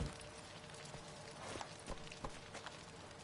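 Hoofbeats of the horse Roach in The Witcher 3: Blood and Wine, a soft clip-clop of a few spaced footfalls on the ground, quiet and close, with no talking.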